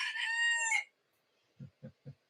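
A chicken gives a loud, high crow, followed after a short pause by three low, soft clucks, close by and with no talking.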